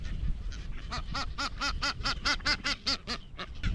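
Seabirds in a crowded breeding colony on a remote sand island call nearby in a rapid series of harsh, honking cries, with a steady murmur of other birds underneath.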